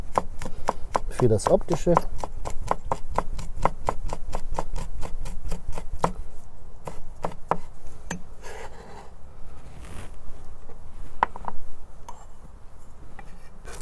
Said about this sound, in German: Die Chilis schneide ich in kleine Ringe